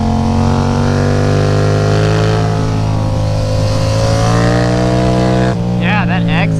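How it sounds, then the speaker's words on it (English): Yamaha FZ-07 motorcycle exhaust pulling hard out of a corner, a loud, sustained engine drone with a rising pitch under steady acceleration, ending with a brief shift in tone. Nobody speaks. "So the benefit with this exhaust note is it doesn't have that hummy, high-pitched noise that kind of drowns your ears"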